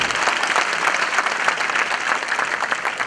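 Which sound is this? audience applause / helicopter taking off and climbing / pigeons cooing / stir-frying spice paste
audience applause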